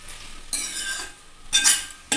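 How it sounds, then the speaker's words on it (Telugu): Potatoes being stirred with salt in a frying pan for aloo fry produce bursts of scraping and clinking from the spoon against the pan, three distinct stirring strokes over a faint background sizzle, no speech. "దాంట్లోకి కొంచెం సాల్ట్ యాడ్ చేసుకొని కలుపుకోవాలండి"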